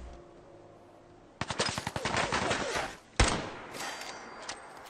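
Gunfire in Fallout 4 erupts as a rapid burst of automatic shots after a quiet stretch, then a single heavy blast follows, all loud and close with a short lull between.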